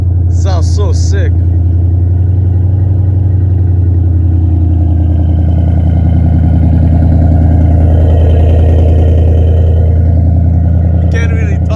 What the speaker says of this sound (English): Sounds like a Mustang